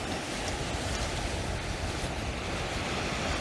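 Ocean waves surging against the rock formations and cliffs at Peggy's Cove, a steady broadband roar of surf with some wind across the microphone, continuous and fairly loud, with no voices.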